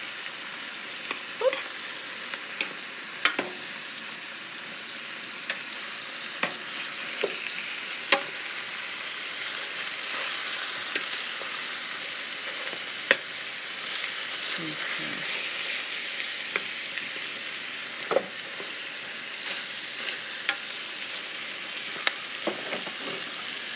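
Chicken pieces brown in a pan for chicken paprika, giving a steady close sizzle with scattered sharp clicks and scrapes from turning the meat, and no voices.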